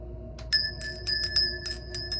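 A small bright bell is struck about seven times in quick succession, each ring clear and metallic with a short sustain, loud and close in a quiet room.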